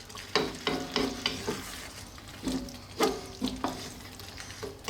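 A spatula stirs beef curry with fresh coriander in a pan just taken off the heat, making repeated scraping strokes over a low sizzle, close and fairly loud, with no one speaking.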